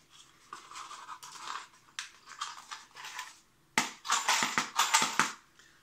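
A matchbox or similar packaging is shaken like a percussion shaker, giving a gritty rattle in rhythmic bursts that grows louder and sharper near the end, close-up with no talk.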